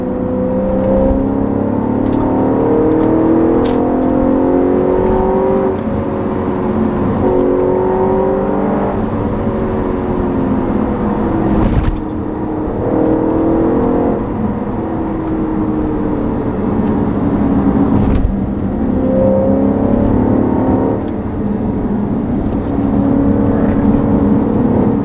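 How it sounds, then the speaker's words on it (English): A 2013 Audi RS5 engine revs hard while driving, climbing through the gears in repeated rising whines with brief dips at each shift, loud and close in the cabin throughout, with no talking. "I just want to rev this thing out."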